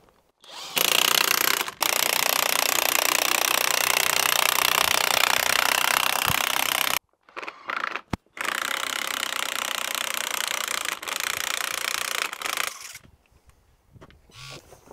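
A loud DeWalt power drill runs in long sustained bursts during farm fencing work, stopping briefly mid-way with a couple of short clicks before whirring again, then cutting off.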